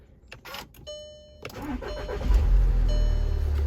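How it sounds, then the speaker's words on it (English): A 2013 VW Jetta engine cranks briefly and catches, then settles into a steady low rumble that grows louder and holds, heard up close. "We're gonna start the car"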